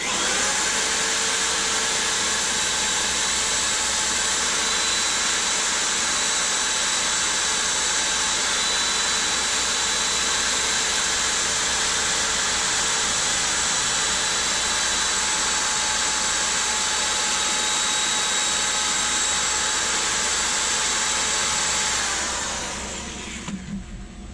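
A cocobolo wood bowl is buffed with wax on a spinning buffing wheel. A loud, steady motor whine and rushing hum holds for about twenty seconds, then winds down at the end.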